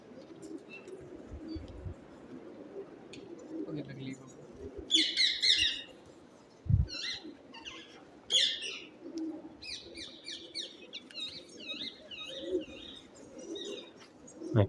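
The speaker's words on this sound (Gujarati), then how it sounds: "કબૂતર કેટલા છે" Pigeons inside the Bijli Baru cave coo and chirp in scattered, echoing bursts over low background rumble, with a few soft thuds.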